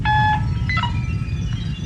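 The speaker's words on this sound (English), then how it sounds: "Isn't that your scanner alarm, Mora?" A scanner alarm on a spacecraft bridge in a science-fiction radio drama gives a bright, steady electronic tone, followed by shorter chirping bleeps over a low background hum, with no voices.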